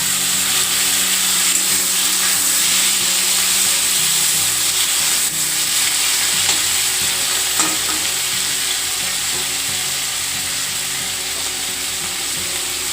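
Cashews, raisins and chopped tomatoes frying in a pan over a medium gas flame, a loud continuous sizzle with scraping stirs and small pops running steadily for about thirteen seconds.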